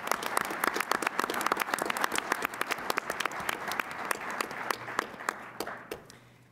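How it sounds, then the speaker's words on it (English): Steady audience applause at a finance association business meeting and awards presentation, sharp overlapping claps sustained for several seconds and tapering at the end, fairly distant. "maybe we should give our donors an extra round of applause at this point."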